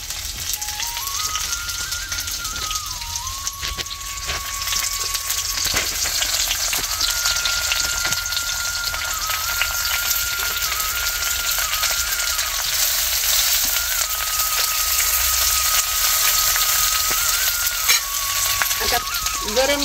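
Okra (lady finger) sizzles steadily in hot oil on a flat tawa, a loud, continuous frying hiss throughout with occasional stirring, no voices.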